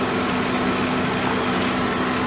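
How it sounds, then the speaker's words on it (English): A Dodge Ram truck engine idles steadily, a constant low mechanical hum with a strong drone, loud and close, with no talking over it. "And then you just run the engine."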